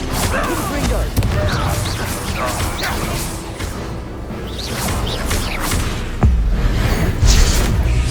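Confringo blast spells explode during a spell-casting battle in Hogwarts Legacy: repeated booms, whooshes and crashing impacts, with a heavier hit near the end. Voices can be heard between the blasts.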